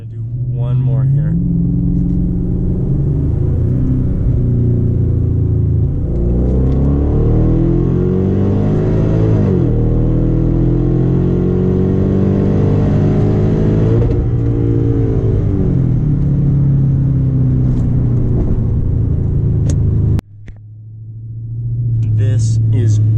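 A 2013 Hyundai Genesis 5.0 R-Spec V8 pulls hard under acceleration, its engine note climbing in steady sweeps through the gears from inside the cabin, loud and continuous, easing off briefly near the end before building again.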